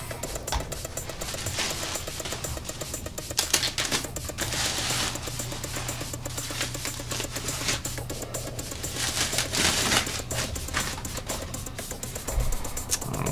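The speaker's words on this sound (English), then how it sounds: "Let's take it out of its packaging" A bass guitar neck from a DIY Jazz Bass kit is pulled from its packaging, with close, irregular crinkling, scraping and rustling of wrapping material that continues throughout at a modest level, with no talking.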